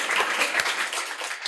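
Audience applause from a comedy podcast crowd in Jogja, a steady dense patter of many hands filling the short moment without a break.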